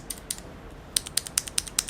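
Clicky blue-switch mechanical keyboard typed at a steady clip, a run of sharp, crisp clicks that start sparse then come in an even rhythm of about five quick strokes, close and fairly loud with no voices.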